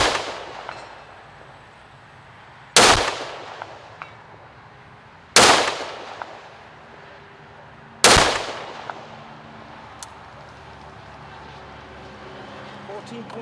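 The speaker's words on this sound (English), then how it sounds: "I'll be using the shot timer, timing myself, shooting one on each, and then resetting" Three loud, sharp gunshots fired at targets during shooting practice beside a barn, spaced a few seconds apart, each with a long outdoor echo decaying into quiet, and faint clicks from a shot timer.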